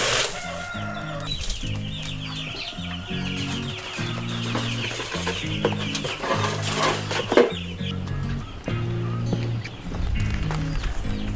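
Backyard chickens on a small homestead cluck repeatedly in short, rhythmic bursts, close and clear, with a rooster's crow and other fowl calls mixed in over a steady outdoor background.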